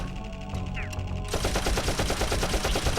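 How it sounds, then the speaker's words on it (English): A gun in the video game Dark Cloud fires in a rapid, loud stream of bullets, the shots repeating in a fast, even rhythm after a quieter start. "Why is the gun so much louder?"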